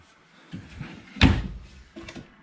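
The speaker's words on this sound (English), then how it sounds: "Really nice big deep drawers there, pull out really easily, shut really nice." Kitchen drawers in a 2020 Grand Design Imagine 2670MK travel trailer slide open and shut, giving a few soft knocks followed by one sharp close-range slam, with a quieter bump after it and no talking.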